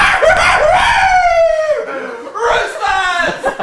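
A human voice imitates a rooster crowing on stage, a loud drawn-out cock-a-doodle-doo with a falling tail, then a second shorter crow.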